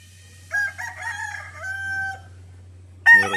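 A rooster at a game farm crows loudly and clearly, one long drawn-out call, followed by the sharp start of another crow at the end, over a low steady hum.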